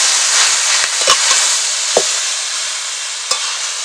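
Pieces of elephant apple fry in hot oil with whole dry chilies and cumin seeds, a steady bright sizzle punctuated by a few sharp clinks and scrapes of stirring, close and loud with no talking.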